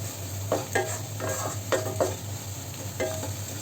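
A spoon stirs spices and black pepper powder in a pan for egg rice, with soft scraping strokes in uneven bursts over a low, steady sizzle close by.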